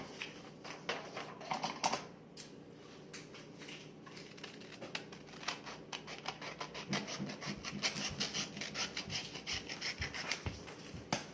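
White paper is folded into a triangle and cut, giving close, crisp rustles, creases and scratchy snips in a busy, uneven rhythm, with no talk.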